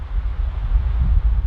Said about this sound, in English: It's getting so windy and...